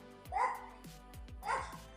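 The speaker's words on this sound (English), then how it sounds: "having background noise when you're trying to stream that might deter some viewers? Exhibit A, doggy." A dog barks twice in the background of an indoor stream, two yappy mid-pitched barks about a second apart, moderately distant and fairly faint.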